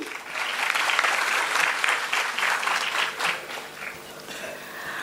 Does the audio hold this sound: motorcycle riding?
no